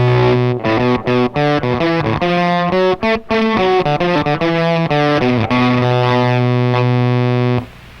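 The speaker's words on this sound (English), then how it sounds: "I've never heard that fuzz sound like this before" Fuzzy, heavily distorted electric guitar plays a quick run of notes, then rings out on a long sustained chord before cutting off.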